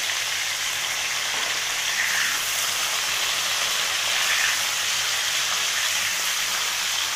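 Tilapia fish frying in hot oil, a steady close hiss and crackle holding evenly from start to finish with no pauses.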